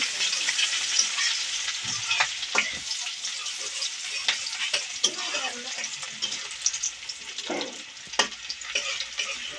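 Chili and onion frying in hot oil: a steady close sizzle with irregular scrapes and clatters as the pan is stirred, no talk.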